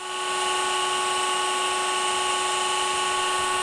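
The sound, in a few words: stone-cutting saw with rising table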